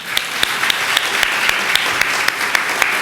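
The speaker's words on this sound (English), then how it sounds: "Nice round of applause for them." Loud, sustained applause fills an awards ceremony hall, an even wash of many hands with a few sharper individual claps standing out.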